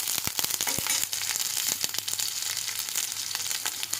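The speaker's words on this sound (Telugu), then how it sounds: "ముందుగా ఇవన్నీ ఫ్రై చేసుకొని బాగా దీంట్లో వెల్లుల్లి రెబ్బలు వేయడం వల్ల మంచి ఫ్లేవర్ వస్తుంది" Garlic cloves and spices sizzle and fry in a pan for Indian ajwain rice, a steady bright crackle with dense popping close up, no voices over it.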